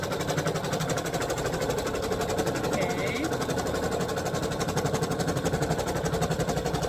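An embroidery machine stitches in a hoop studio while making finger mitts, a steady rapid mechanical chatter that runs loud and unbroken throughout.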